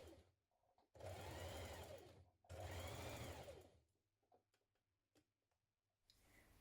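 A domestic sewing machine stitches a blouse neck facing in two steady whirring runs of roughly a second and a half each, close and clear, followed by light ticks and handling noises.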